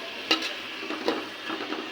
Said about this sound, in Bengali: তেল দিয়ে আমি পেঁয়াজটাকে ভালোভাবে ভেজে নেব।